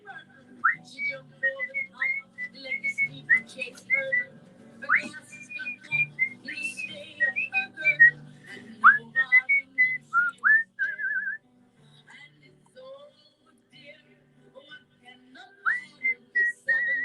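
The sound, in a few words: person whistling a tune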